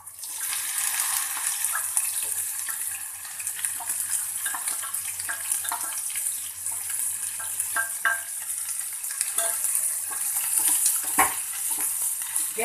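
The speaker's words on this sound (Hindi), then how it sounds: "और अब इसमें मैं ये भिंडी डाल दूंगी।" Okra drops into hot oil seasoned with carom seeds and a pinch of asafoetida over a medium flame, sizzling steadily with scattered crackles and stirring scrapes, close and continuous.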